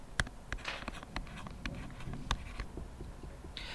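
A physics quiz answer being written out during a review, with close, quiet pen-on-paper scratches and taps and a few sharper clicks, with no voice over it.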